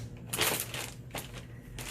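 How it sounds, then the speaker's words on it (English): A plastic vacuum seal bag's zipper closure is pressed shut, giving two or three crinkly, crunching bursts of plastic close up, with no talking. "they have these cool little zipper on there to help it zip up nice and tight with both seals"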